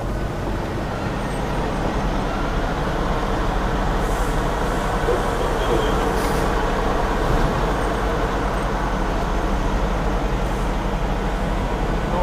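A truck pulling a trailer idles and creeps backward into a town parking spot, giving a steady heavy diesel rumble with road noise and a faint hiss of air brakes.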